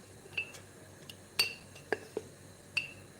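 A metal utensil clinks against a cooking pan as starch is added while cooking, giving about five to six quiet, bright taps spread irregularly over a few seconds against a faint background.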